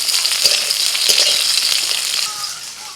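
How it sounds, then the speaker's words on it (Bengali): Eggplant coated in salt and turmeric fries in hot mustard oil in a wok. The sizzle is loud, steady and close, with faint stirring and no talk. "এখন লবণ হলুদ মাখানো বেগুনটা ভেজে নেব।"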